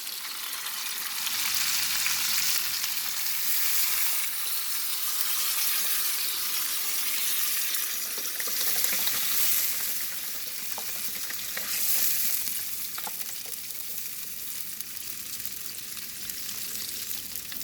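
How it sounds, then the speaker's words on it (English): Oxtail stew cooking in a pot as a 32-ounce container of beef broth goes in, a steady broadband sizzle with bubbling and occasional stirring clatter, continuous and fairly close with no voices. "And then I'm going to add my beef broth."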